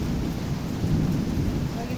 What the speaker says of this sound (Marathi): पाऊस माझ्या मागे पडतोय